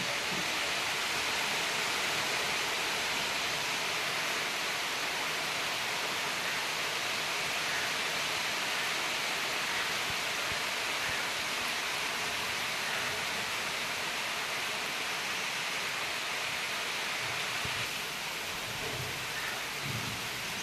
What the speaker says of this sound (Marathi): पाऊस पण लागतो